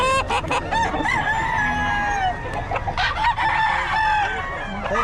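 A Pumpkin-breed rooster crows repeatedly at a busy poultry market in Bocaue, its calls loud and close over a murmur of people talking in the background.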